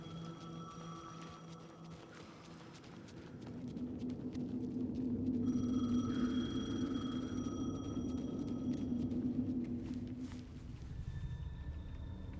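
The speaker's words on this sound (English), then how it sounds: "The payphone was ringing." A payphone ringing in the video game Alan Wake 2, a repeating electronic ring tone heard at moderate distance over a low ambient hum, growing louder through the middle.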